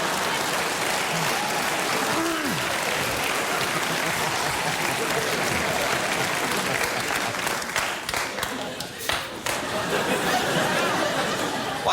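Studio audience at a late-night talk show breaking into sustained applause, a dense wash of clapping with scattered chatter and light laughter, loud and continuous throughout.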